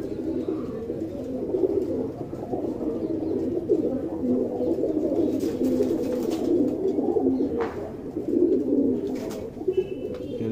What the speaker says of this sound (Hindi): कम से कम 50-60 कबूतर तो होंगे